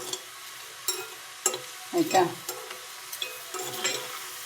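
Food fries and is stirred in an iron pan, with a low sizzle under intermittent scraping strokes and clinks from the spoon, close and moderately loud.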